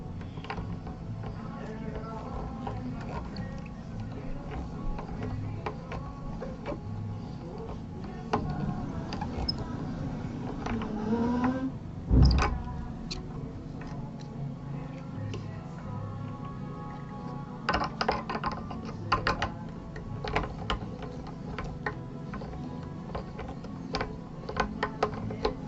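Tuning machine on a Schecter Synyster Gates guitar winding a new string tight, a quiet run of ratcheting clicks and small mechanical ticks, with one louder knock midway and brief handling noises.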